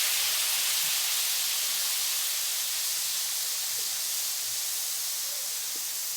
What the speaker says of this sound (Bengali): আদা রসুনের গন্ধটা না থাকে ভালো করে ভেজে নেব।